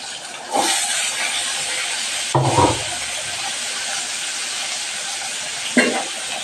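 Chopped onions sizzle in a hot pan during breakfast cooking at home, a steady frying hiss throughout with a few brief clatters of stirring or utensils.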